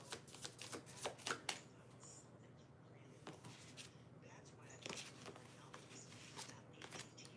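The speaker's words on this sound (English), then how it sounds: "I'm gonna do 2 more shuffles and then I'm gonna close this one out" Tarot cards being shuffled in a series of crisp riffling bursts and soft flicks, close to the mic, with quieter pauses between shuffles and faint background voice.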